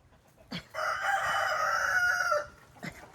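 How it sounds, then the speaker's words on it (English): A farmyard rooster, among chickens being fed scratch, gives one clear crow at moderate distance lasting nearly two seconds, with short clucks just before and after. "And the roosters agree."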